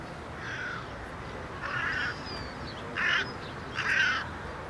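A colony of crows nesting in the Jardin des Plantes garden in Paris gives four hoarse caws spaced a second or so apart, fairly close, over faint outdoor ambience.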